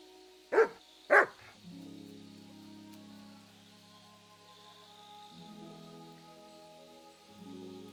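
A dog barking in Kingdom Come: Deliverance II, two loud close barks early on, then quiet ambience with soft background tones.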